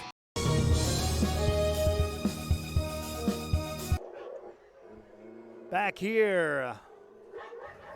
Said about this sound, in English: that sound you hear in the background is some vicious barking dogs